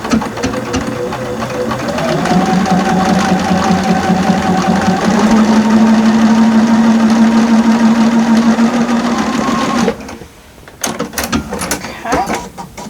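Sewing machine piecing a quilt block runs in a steady continuous whir for about ten seconds, rising slightly in pitch partway through, then stops, leaving a few quiet handling clicks and rustles.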